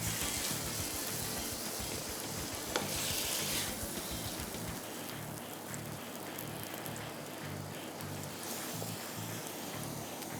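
Fried rice cooking over a high flame, giving a steady, loud sizzling hiss that runs unbroken throughout with no talking.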